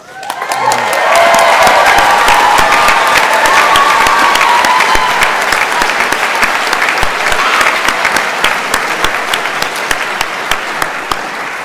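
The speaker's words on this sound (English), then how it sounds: "I would like to give a special round of applause" Loud, sustained applause from a large crowd at a mechanical engineering graduation ceremony, steady and dense for the whole stretch, fading slightly toward the end.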